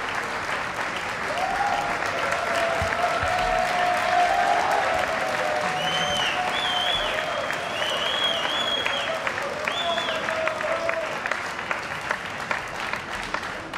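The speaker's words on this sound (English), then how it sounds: "Please give him a huge round of applause" An indoor audience at a FIFA Interactive World Cup final event applauds steadily to welcome Brazilian football legend Ronaldo, sustained clapping with a few cheers and whistles rising over the crowd for about fourteen seconds.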